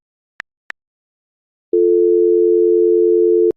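A steady phone dial tone plays in the Sakura School Simulator video game, preceded by two short clicks, holding loud and unbroken for about two seconds before cutting off.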